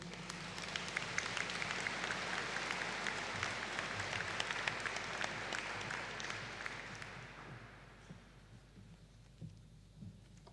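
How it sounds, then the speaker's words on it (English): A graduation ceremony audience gives a sustained round of applause for pharmaceutical sciences graduates, a dense wash of many hands clapping that holds steady for several seconds before thinning out and fading toward the end. "Could the graduates of the Bachelor of Science Honours in Pharmaceutical Sciences add-on stand for a collective round of applause?"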